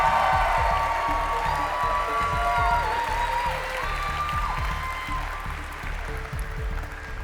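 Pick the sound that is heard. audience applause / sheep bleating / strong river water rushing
audience applause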